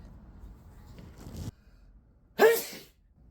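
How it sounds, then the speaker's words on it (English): A single short, sharp sneeze bursts out close to the microphone, preceded by a faint breathy intake, in an otherwise quiet room. "Ugh, sneeze."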